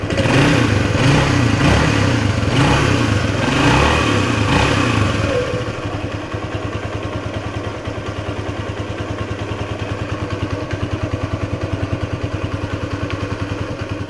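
A restored 1976 Honda XL175 motorcycle engine with an overhauled carburetor revs loudly and roughly for several seconds, then drops to a steady, rhythmic single-cylinder idle with a fast, even putter, close by.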